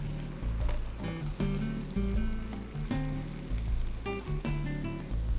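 Shrimp sizzling in a pan with melted butter and white wine, giving a loud, steady crackling fry close by, punctuated by occasional sharper pops and light clinks.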